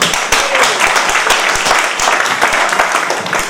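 A crowd at a public event in Darbhanga claps loudly and close by, dense overlapping hand claps with sharp individual strikes standing out, continuing steadily without pause.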